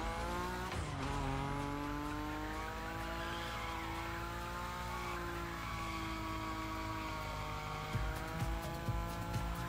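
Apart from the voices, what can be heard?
Nissan Nismo car sliding with tire squeal, The Crew Motorfest video game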